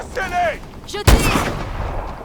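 Gunfire from the Call of Duty Advanced Warfare video game: one loud, close blast with a ringing tail, just after brief speech in French.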